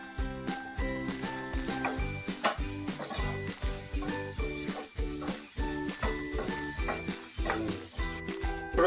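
Egg chicken Hakka noodles sizzle in a pan with soy sauce, vinegar and red chili powder, with steady frying and repeated stirring scrapes set against rhythmic background music.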